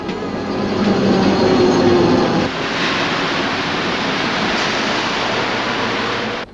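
A Paris RATP metro train running, a loud continuous rumble and rushing roar with a slight drop in intensity midway, steady throughout without voices.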